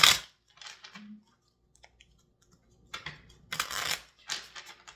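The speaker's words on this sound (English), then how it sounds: "So I'm going to shuffle them up." A deck of cards is shuffled in short, crisp bursts of rapid clicking and riffling, separated by quiet gaps. The sound is close and fairly soft, with no speech.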